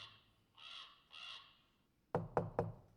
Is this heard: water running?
no